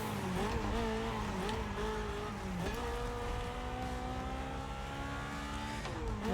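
Engine note of a car in The Crew Motorfest driving through a tunnel, a steady loud drone with rising gear-shift tones and echoing reverberation, running continuously without a break.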